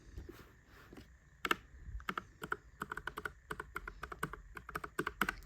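Typing on a NuPhy Air75 wireless 75% mechanical keyboard, a quiet close-up run of crisp clicky keystrokes, sparse at first and then in quick irregular bursts.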